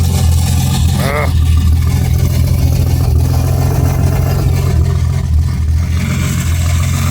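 An Opel Monza 3.0 coupe engine runs with its muffler almost entirely missing, giving a loud, steady low rumble that fills the whole clip, with voices talking over it.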